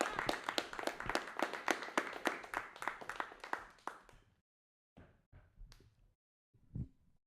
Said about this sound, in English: Big round of applause for a very funny man, Isaac Pendergrass, ladies and gentlemen.